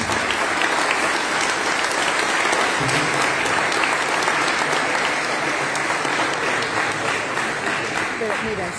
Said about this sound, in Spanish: Un aplauso más para cerrar este espacio.